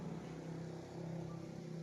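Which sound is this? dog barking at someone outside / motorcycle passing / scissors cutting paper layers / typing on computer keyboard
motorcycle passing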